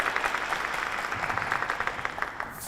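Audience applause at a high-school quiz competition, a steady wash of many people clapping at moderate volume that holds evenly throughout with no voices over it.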